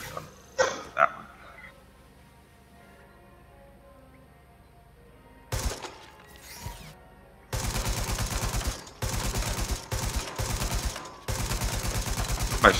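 Rapid bursts of turret gunfire in the video game Watch Dogs Legion, loud and sustained from about the middle onward, repeated in several closely spaced volleys after a few scattered earlier shots and impacts.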